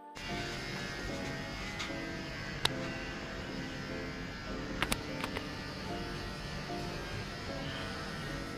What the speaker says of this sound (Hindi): जब अभी ब्लैकी का ट्रिमिंग चल रहा है